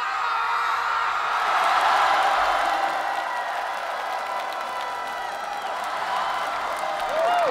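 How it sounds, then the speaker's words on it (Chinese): A studio audience at a televised stage competition claps and cheers steadily for a performing group, a dense sustained wash of applause with occasional whoops, loud and continuous from start to finish. "掌声送给苏有朋部落。"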